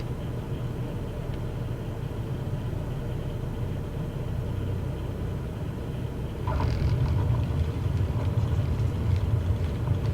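An aircraft engine in Microsoft Flight Simulator 2020 runs at a steady low drone, then surges louder and fuller about two-thirds of the way in as the throttle is pushed up, with no voices.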